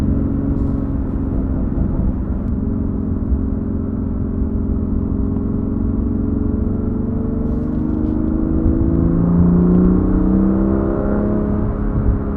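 A BMW M2 Competition engine drones steadily while driving, a low throaty rumble that climbs in pitch as it revs up.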